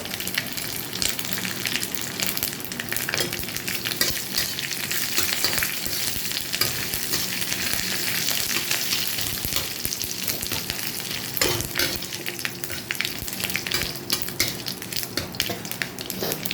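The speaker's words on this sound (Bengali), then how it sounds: "কারি পাতা প্রচণ্ড ফাটে তেলে পড়লে" Curry leaves crackling and spitting in hot oil for a tempering, a loud, steady sizzle with dense sharp pops running throughout, close up and with no talk.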